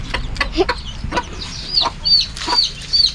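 Chickens cluck close by, a hen among newly hatched chicks, with repeated short clucks and high thin chick peeps recurring through the clip over a low steady background.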